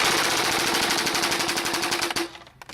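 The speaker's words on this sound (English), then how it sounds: "the Rapid Fire 20 shot all of its 20 darts from this rotating turret in about 2 seconds" A vintage Nerf Airjet Power Rapid Fire 20 empties all twenty darts from its rotating turret in a dense, rapid burst of pneumatic pops lasting about two seconds. The burst is close and loud, then cuts off into a brief quieter tail.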